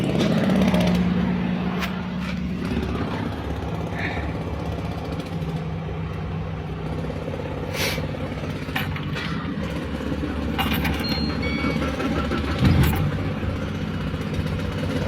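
A VAZ 2114 car engine idles steadily after electrical repair, a low continuous running hum with a few clicks and mechanical taps, nearby with faint background noise.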